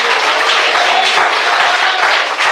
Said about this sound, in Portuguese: Quem entendeu, bate palmas.